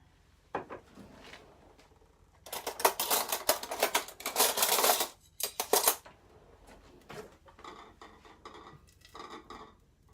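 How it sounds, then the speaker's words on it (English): Rapid clattering knife chops on a board in bursts, chopping biscuit crumbs, loud and close, with quieter tapping between them and no voices. "Just chopping it a little bit smaller there."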